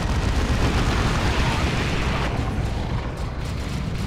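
An artillery barrage in the strategy game Dawn of War 2: Retribution, a dense, continuous rumble of explosions with loud booms heard throughout.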